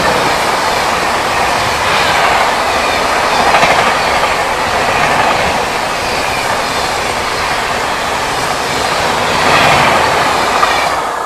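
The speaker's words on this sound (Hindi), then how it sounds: "बाकी कोई तो ट्रेन भाई बढ़िया रफ्तार में आ रही है, शायद से कर्नाटका संपर्क क्रांति है।" Karnataka Sampark Kranti Express passing at speed on an Indian railway line, heard from aboard another train: a steady loud roar of wheels and carriages with rhythmic clickety-clack, swelling twice as it goes by.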